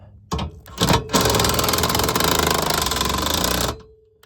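A power drill whirs hard and steady for a few seconds after a couple of short bursts, close by during work on RV camper stabilizer jacks.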